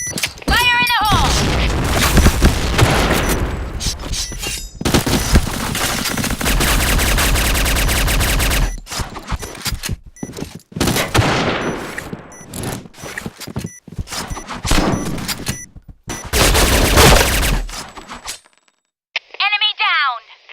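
Dense automatic gunfire bursts and booming blasts from a grenade in the shooter game Point Blank, loud and close, broken by short gaps, with a voice calling out in-game between the volleys.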